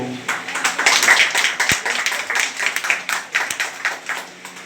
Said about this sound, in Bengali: আর একবার প্রাণবন্ত হাততালি দেব।